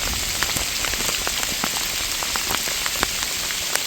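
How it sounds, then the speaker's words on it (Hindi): Hail falls hard at a Himalayan trek campsite on the Ranthan Kharak route, a dense steady patter with scattered sharper ticks of stones striking nearby surfaces and no voices. "अभी तो ओले बहुत तेज़ हो गए हैं"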